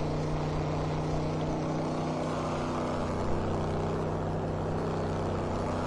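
A race car in the RaceRoom Raceway video game drives at speed in 6th gear toward the first corner, a loud, steady, even engine drone with no shifts or breaks and no talk.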